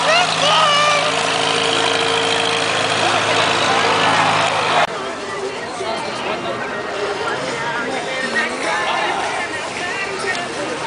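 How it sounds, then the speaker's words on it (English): A truck engine idles during a Christmas parade, a steady low drone that is loud at first, then gives way to a busier outdoor mix with voices from the crowd. "A truck."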